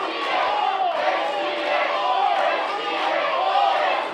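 A split crowd at a live wrestling exhibition match shouts and cheers continuously, a dense wash of voices with rising chants and yells throughout, fairly near and loud.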